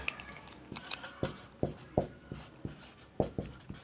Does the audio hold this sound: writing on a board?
yes